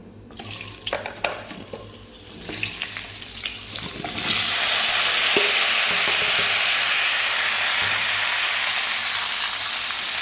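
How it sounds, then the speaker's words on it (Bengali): Potato chunks and pointed gourd hit hot oil left from frying paneer, starting with scattered clatters and crackles, then breaking into a loud, steady, close sizzle that fills the rest of the time without any talk. "এবার সেই তেলের মধ্যেই আমি আলু পটলগুলো ভেজে নেব।"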